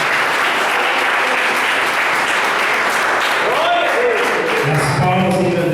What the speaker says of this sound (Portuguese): As palmas engrandecem o nome do Senhor Jesus.